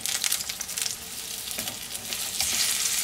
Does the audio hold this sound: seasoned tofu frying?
yes